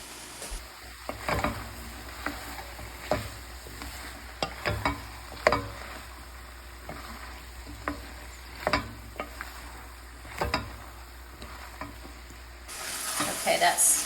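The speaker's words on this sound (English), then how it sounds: "I've been continuing to stir." Chopped onions, some pieces burnt, fry in a pot for potato soup under a soft continuous sizzle, while a utensil stirs and scrapes in short close strokes about once a second.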